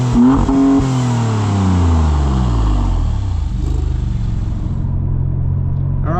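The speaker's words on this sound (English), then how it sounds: "it does have a lot of theatre about it, even when you're cruising around. There's a bit of character. You've got that engine right behind you," Engine of a 2026 Maserati MCPura mid-engined sports car while driving, heard as a loud, close interior drone that revs up with rising tones, then settles into a steady rumble with no talking.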